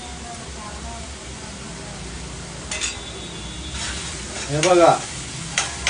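Onions frying in a pan for aloo dum puri: a soft, steady sizzle with a few stirring scrapes and clinks, rising briefly near the end, while a person talks over it.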